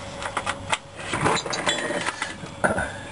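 A ratchet wrench loosening the control arm bolts on a car's front suspension, with irregular metallic clicks and clinks in a workshop and no talk.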